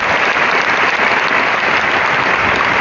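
An audience claps steadily and loudly in dense, sustained applause during a Swaminarayan religious discourse, with no talking over it.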